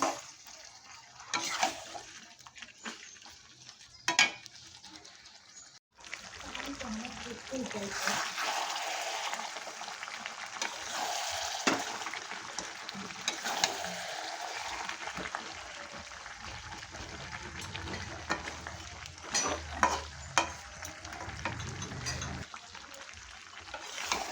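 Chicken sautéing in a pan for chicken kosha, a steady moderate sizzle with intermittent spatula scrapes and clanks against the pan, a brief break partway through.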